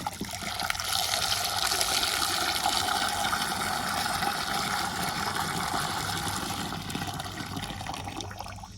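Steady rushing of water runs without a break for several seconds, a full, even splashing flow like liquid being poured or filled.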